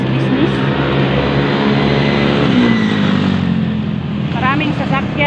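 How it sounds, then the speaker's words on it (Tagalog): Busy road traffic in Northern Luzon, Philippines, with many cars and motorcycles streaming past a walker in a commercial district, a steady loud engine roar and passing swells throughout, while people talk over it. "Maraming sasakyan."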